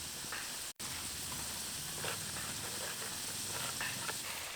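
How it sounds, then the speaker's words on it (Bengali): Potatoes fry in hot oil in a home kitchen, giving a steady, close sizzle that runs throughout with one brief break near the start and faint soft clicks. "আলুটা লাল করে ভেজে নিয়েছি"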